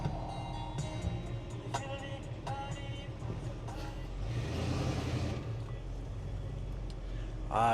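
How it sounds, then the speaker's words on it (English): A restomodded 1977 Ford F100 shortbed pickup with a 351 V8 and C4 automatic accelerates, its engine rumbling steadily and swelling midway, close and fairly loud, with brief other noises over it. "Acceleration is no thing for this truck."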